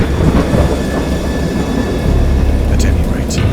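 A deep, continuous rumble of storm thunder in the horror game Dagon, loud and sustained throughout with a few brief crackling bursts near the end, and no speech over it.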